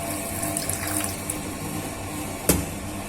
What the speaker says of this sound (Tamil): அரிசி கழுவுன தண்ணி கொஞ்சம் வச்சுக்கங்க, அது ஊத்தி ஆவி காட்டலாம்